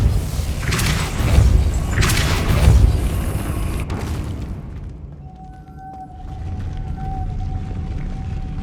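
Depulso spell cast in Hogwarts Legacy, a deep booming whoosh with heavy low thuds that swells and fades into a quieter ambient hum with a faint tonal ring.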